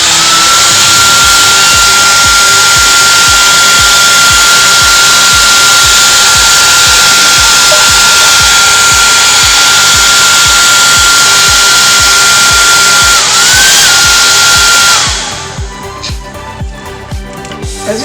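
A hair dryer runs loud and steady for about fifteen seconds with a constant whine, blowing air to dry fresh herbs, then cuts off, leaving quieter rustling and handling noise.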